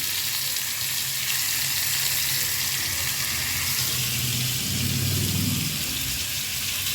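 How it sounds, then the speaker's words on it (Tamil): Fish frying in hot oil during home cooking, a steady dense sizzle and crackle running continuously throughout, growing slightly fuller near the end, with no voices. "இப்போ நம்ம லாஸ்ட்டில் ஃபிஷ் ஃப்ரை பண்ண போகிறோம்"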